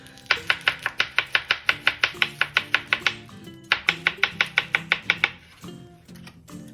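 A kitchen knife chops through the stem end of a Brussels sprout on a cutting board, two quick runs of sharp, evenly spaced close-up knocks with a short pause between, then a few scattered taps.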